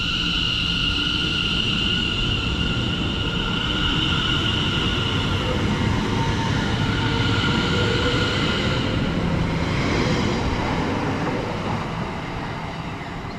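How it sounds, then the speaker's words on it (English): Class 720 electric trains pull out of Tottenham Hale station, a loud, continuous rumble with a rising motor whine and rail noise that holds steady throughout, easing slightly at the very end. "I believe the train's heading out in a minute, but yeah, here we are."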